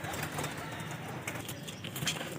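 Breeder pigeons on a rooftop make soft cooing and rustling against steady background noise, close by and moderately loud.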